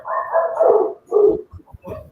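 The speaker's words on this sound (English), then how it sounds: "Oh Lord, you heard the dog." Dogs let out through a door bark outside, with a couple of drawn-out, muffled barks followed by shorter yips, fairly loud and close.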